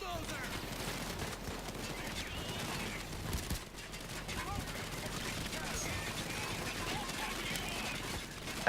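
A minigun-wielding bulldozer enemy fires in the video game Payday 2: dense, continuous rapid gunfire rattles on without pause at high volume, with someone talking over the barrage.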